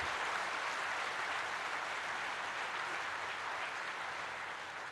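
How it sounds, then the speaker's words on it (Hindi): A large audience at the INS Vikrant aircraft carrier commissioning ceremony in Kochi, Kerala, applauds: a broad, continuous wash of clapping heard from a distance, steady and even, with no voices over it. "एक बार जोरदार जानदार तालियों के साथ अपनी भावनाओं को व्यक्त कीजिए।"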